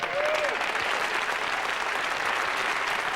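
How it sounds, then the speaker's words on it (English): Audience at a charity ball keeps applauding, dense continuous clapping at an even level, with a brief whistle near the start. "Please keep applauding because this year's ball is projected to beat last year's record."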